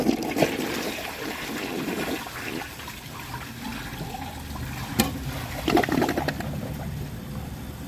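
A 2021 Mansfield Denali toilet flushes with its handle held down, a close, sustained rush of draining water that churns and gurgles for several seconds before easing off.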